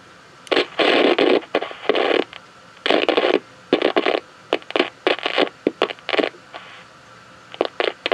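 A vintage 1960s–70s AITC solid-state table radio, switched on and set to FM, gives off bursts of crackling static and hiss broken by abrupt silences, close and moderately loud.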